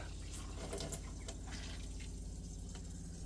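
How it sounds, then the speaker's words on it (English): Water is pumped through a caravan's water system and trickles faintly from the tap in a quiet, uneven dribble with small splashes, alone and without talk. "it's pumping water through"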